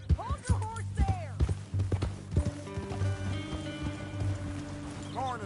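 Horse hooves clip-clop through rain in Red Dead Redemption 2, a steady patter of drops under uneven hoof strikes, with voices talking over parts of it.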